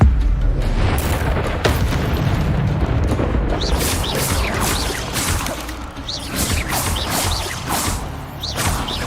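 A fire spell cast in the video game Hogwarts Legacy erupts in a loud, sustained roaring blast, with crackling bursts and whooshing flares carrying on for several seconds.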